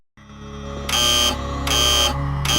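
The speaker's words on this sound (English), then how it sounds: "The buzzer." A loud electronic buzzer from the video game Deus Ex sounds in repeated harsh bursts over a steady tonal hum, the blasts starting suddenly and pulsing in an uneven rhythm.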